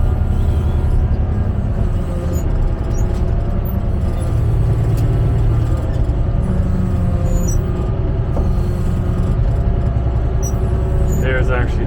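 A dozer backblading gravel fill outdoors, its diesel engine droning loud and continuous with scraping and clanking over nearly twelve seconds.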